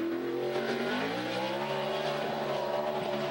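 A stock car driven hard around the Watkins Glen road course, its engine roaring steadily with a rising pitch as it accelerates, loud and continuous with no talk over it.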